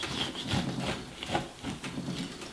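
A knife blade cuts along the skin of a pomegranate in a kitchen: a close, continuous scratchy rasp with soft rhythmic pulses, steady throughout with no voices.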